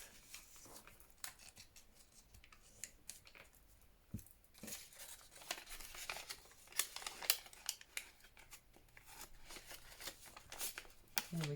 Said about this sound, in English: So again, I'm going to fold this over for a bit of strength.